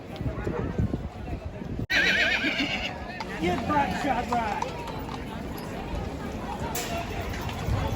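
A horse neighs and whinnies during a ride at a wedding venue in London, with hooves clip-clopping, loud and close, while people talk over it throughout.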